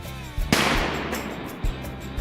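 A single sharp 20-gauge shotgun blast during a turkey hunt outdoors, loud and close, with a trailing echo and a brief second thump after.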